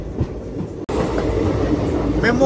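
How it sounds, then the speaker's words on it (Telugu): An ICF-coach passenger train on the Narsapur–Dharmavaram Express rolls along the rails, heard from inside as a loud, continuous rumble with rhythmic clatter and faint wheel squeals, briefly dropping out before resuming. "అసలు ఆ మ్యూజిక్ చూడండి ఎంత వినసొంపుగా ఉంటుందో తెలుసా? ICF కోచెస్లో ఇలా వెళ్తా ఉంటే"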